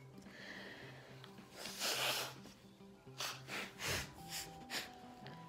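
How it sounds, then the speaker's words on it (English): Someone blows their nose into a paper towel close by, a few forceful bursts of air through the nostrils followed by shorter snorting puffs. "I'm gonna blow my nose."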